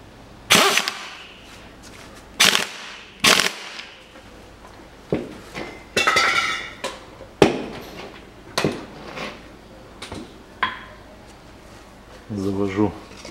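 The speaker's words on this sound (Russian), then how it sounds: "Завожу на место новый отбойник." A new bump stop is worked onto the rear shock absorber of a Volkswagen Passat B6 in a workshop, with a string of sharp, close metallic knocks and clacks spaced irregularly under intermittent male speech.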